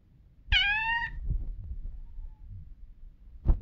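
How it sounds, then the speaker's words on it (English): A kitten meows once, clear and close, followed by low thumping room noise and a brief sharp tap near the end. "There's a kitten in my room right now, so he's gonna be meowing a lot."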